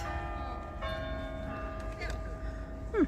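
A church bell in historic Maidstone chimes with a few faint, ringing strokes heard from some distance over quiet outdoor ambience.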